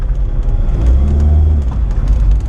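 A flood-damaged Mitsubishi Eclipse engine revs up hard while its tires spin, a loud close rumbling roar that swells and falls over a couple of seconds.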